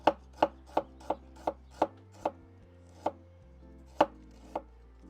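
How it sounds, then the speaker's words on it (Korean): A knife slicing shiitake mushrooms thinly on a cutting board, crisp regular chops close up, about a dozen sharp strikes in a quick uneven rhythm with no voices. "이렇게 이게 제가 지금 요 정도 크기 하나 썰어 넣었거든요."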